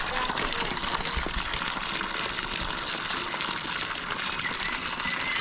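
Water gushes steadily from a 30-stage borewell submersible motor pump discharge pipe, a continuous loud splashing rush with no breaks, with faint background voices.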